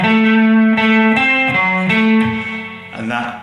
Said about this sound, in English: Now the D section is a walking bass line.